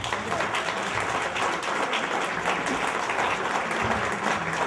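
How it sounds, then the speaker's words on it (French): Steady applause from the crowd at a women's triples petanque championship prize ceremony in Manduel, a continuous wash of clapping from many hands at moderate distance. "Applaudissez-les quand même."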